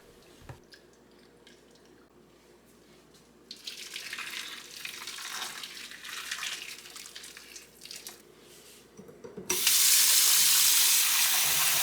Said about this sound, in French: Je commence toujours par rincer mon poisson 2 fois avec de l'eau chaude et ensuite avec de l'eau très froide